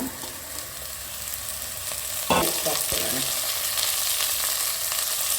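Soya chunks and chopped vegetables tipped into onions frying in oil for pulao, giving a steady loud sizzle with a sharp burst partway through as they hit the pan, then continued frying and stirring.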